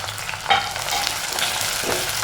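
Shallots and green chilies fry with ginger and garlic in oil, a loud, close, continuous sizzle with stirring clatter and no talking.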